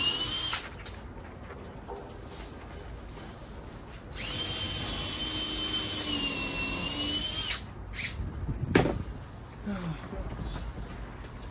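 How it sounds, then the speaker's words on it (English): A power drill pre-drilling holes whirs steadily for several seconds, with shorter bursts and handling clatter around it, fairly close, during a hatch installation. "just pre-drill a couple holes and screw a couple in each one"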